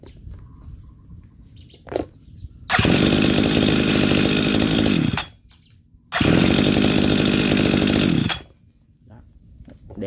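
A small two-stroke brush cutter engine starts up and runs in two loud, steady bursts of buzzing, each lasting a few seconds, with quiet pauses between.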